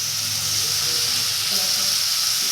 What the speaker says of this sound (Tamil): இஞ்சி பூண்டு விழுது போட்டு நல்லா வதக்கணும்